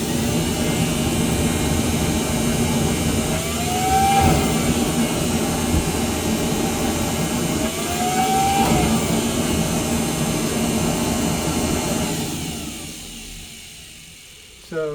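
Workshop dust collection system running, a loud steady roaring whoosh with a faint rising whine twice, fading out toward the end as the machine spins down.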